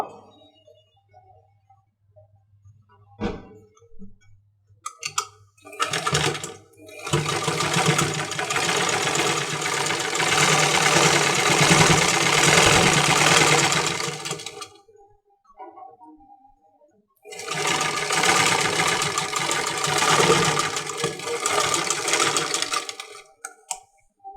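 Sewing machine stitching the folded half-inch hem of a baby frock, running in two long sustained bursts separated by a short pause, with brief clicks and handling noises before it starts.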